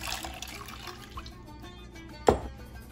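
A cup of water is poured for homemade bread dough, a soft splashing trickle followed by a single sharp splash or clunk near the end.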